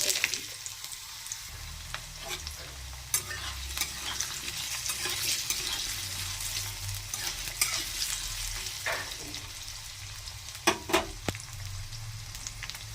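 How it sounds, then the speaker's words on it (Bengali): Diced potatoes fry in oil in a pan while being stirred, a continuous close sizzle broken by scraping spatula strokes and a few louder clatters near the end. "আলুটা হালকা ভেজে নিয়েছি"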